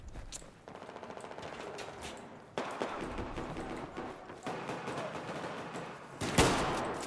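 Dense rapid gunfire in Battlefield 1, continuous bursts of automatic shots rattling steadily, with a sharper, louder blast near the end.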